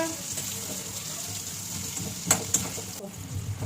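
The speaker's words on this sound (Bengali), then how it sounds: "আলু আর পেঁপে সুন্দরভাবে ভেজে নিচ্ছি" Potato and papaya pieces frying in oil for a thin mutton curry, a faint steady hiss and sizzle with a couple of sharp clinks and background noise.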